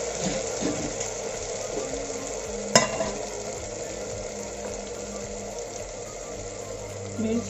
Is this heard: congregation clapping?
no